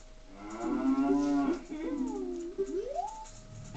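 A cow in the video game Majora's Mask lets out a long, loud moo that rises, falls and swoops upward at the end, heard alone over a faint hum.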